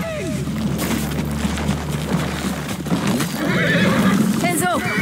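Horses neigh and whinny amid clip-clopping hooves in the Ghost of Tsushima video game, several shrill calls layered over battle bustle and shouting voices.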